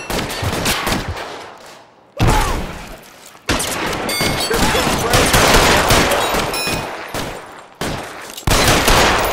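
Gunfire in L.A. Noire, a loud sustained barrage of rapid shots and bursts broken by a few short pauses, close and continuous.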